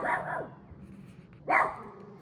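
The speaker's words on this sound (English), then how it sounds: "that's Mia, my 12-pound attack dog." A small 12-pound dog barks in a workshop where a table saw is used for box making, two quick yappy bursts at the start and another sharp bark about a second later, fairly close and clear.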